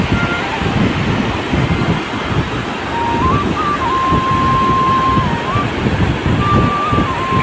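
A small muddy mountain river in the Garhwali hills, swollen by monsoon rain, rushes with a steady, loud broadband wash and no pauses. A faint thin tone drifts above it.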